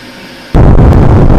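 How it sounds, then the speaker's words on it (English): Rocket stage separation in the Spaceflight Simulator game: a quiet hum breaks into a sudden loud burst, which then holds as a dense, sustained roar. "We did have main engine cutoff and stage separation."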